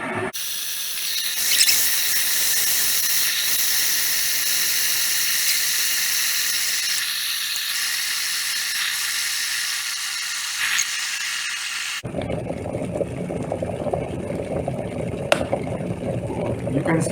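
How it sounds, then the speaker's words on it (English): An electric kettle boiling water, a steady broadband hiss and bubbling roar that runs continuously, then drops abruptly near the end as the auto cut-off switches it off, leaving quieter low rumbles and a sharp click. "have poured the water in it, and water is boiling."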